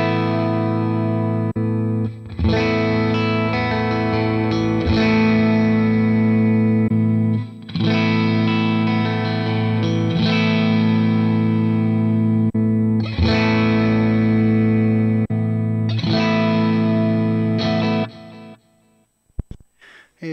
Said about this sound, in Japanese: なんでこれ単音じゃなくてジャリンって鳴らしていくと